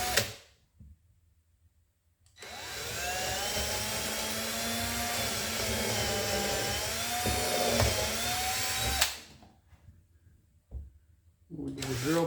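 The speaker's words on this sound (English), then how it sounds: "I always hate drilling holes in a new hull." A power drill whines steadily for several seconds as it bores through a new boat hull, loud and close, bracketed by quiet pauses before and after.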